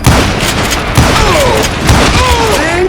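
Gunfire in the video game Call of Juarez: Gunslinger, loud booming shots in a rapid series, about one per second, with whooshing ricochet-like tones and a faint voice underneath.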